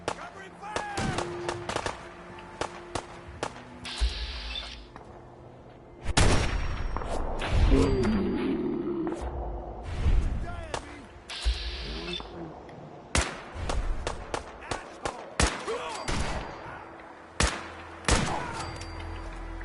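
Bursts of gunfire crackle through a video game battle in a Fallout-style wasteland fight, volleys of shots near and loud, interspersed with impacts and voices.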